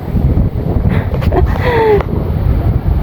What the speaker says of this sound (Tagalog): Ayun malakas na yung hangin.